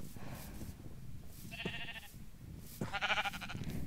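Goats and sheep bleating in Minecraft, two short nasal bleats in turn, fairly close over faint background noise.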